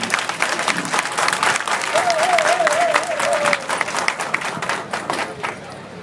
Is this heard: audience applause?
yes